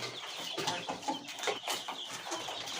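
Quails in a cage clucking and chirping in short bursts, close by, over a soft background rustle; no talking.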